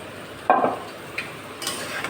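Ridge gourd (dhundul) fried without water in a pan on a village kitchen stove is stirred, one scraping clatter followed by lighter stirs over a soft sizzle.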